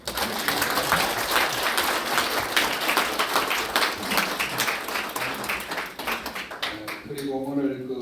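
An audience at a Sungkyunkwan University guest lecture applauds steadily for several seconds, dense clapping filling the room, then it tapers off as a voice begins speaking in Korean at the end.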